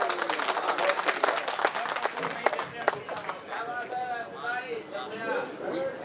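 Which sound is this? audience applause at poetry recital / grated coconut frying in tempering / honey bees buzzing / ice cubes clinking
audience applause at poetry recital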